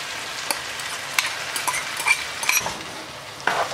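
Chicken karahi with yogurt is stirred in a kadhai: a dense frying sizzle with scattered sharp clinks and scrapes of a utensil against the metal pan, close up and with no voices.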